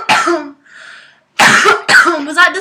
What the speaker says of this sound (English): I just coughed as felt natural.